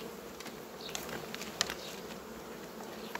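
Honeybees hum at an open hive during queen isolation on three frames, a steady close buzz with individual bees flitting past, no one speaking.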